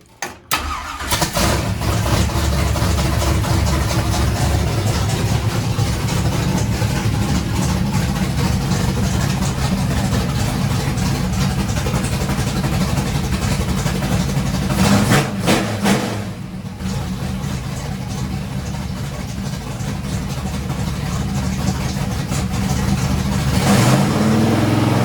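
A race car engine on a NASCAR Cup series track fires up abruptly and settles into a loud, rough idle, with a couple of brief blips or throttle changes around the middle and near the end.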